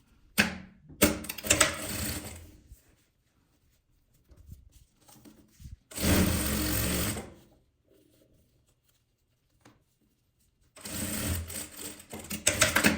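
A domestic sewing machine stitching lining fabric onto a patchwork panel, with bursts of rapid mechanical whirring that start and stop between quieter handling noises, close by and with no talk.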